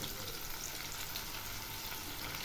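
Onion paste and garlic paste fry lightly in a pan for a Bengali fish curry. The sizzle is a steady, dense hiss, close and continuous, with no voices.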